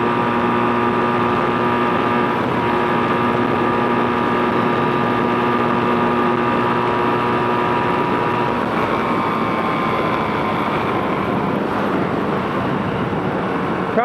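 A Kawasaki KZ440 motorcycle converted to a single carburetor runs steadily while being ridden, its constant engine drone and wind rush filling the scene with a slight pitch change partway through, no talking.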